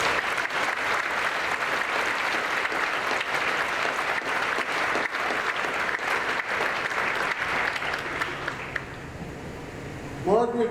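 Sustained, dense applause from an audience at a college honors convocation, greeting recipients of an award; steady and loud for about nine seconds before thinning out near the end.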